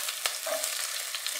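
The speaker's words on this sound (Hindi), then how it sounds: "भून लेंगे प्याज को भी" Finely chopped onion and curry leaves frying for rava upma give a steady, bright crackling sizzle, close and fairly loud, with a single sharp clink near the start and no voices.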